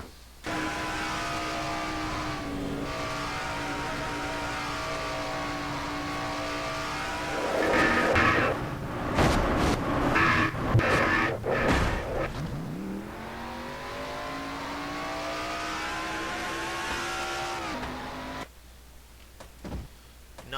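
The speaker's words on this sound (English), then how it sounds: "On board John Arndt's car." A stock race car engine from a racing video game, recorded on board during a Brickyard 400 race, drones loud and steady, briefly climbing and surging mid-way before settling back into a sustained high whine, with no voices.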